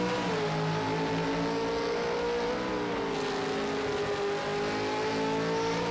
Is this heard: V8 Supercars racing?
yes